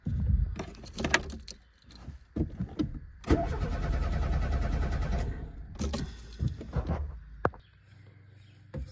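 Renault Super 5 GT Turbo with a fault that keeps it from starting. Keys jingle, then the starter cranks hard for about two seconds without the engine catching, followed by more clicks and fumbling nearby.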